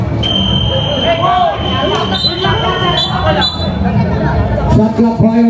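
Shot clock buzzer at a basketball championship game, a sustained high electronic tone sounding over a loud crowd, court noise and announcer speech in a reverberant gym.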